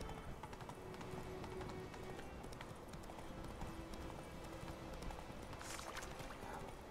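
Horse hooves clip-clop steadily at a quick pace in the video game The Witcher 3, a continuous rhythmic trot over a busy, quiet-level game soundscape.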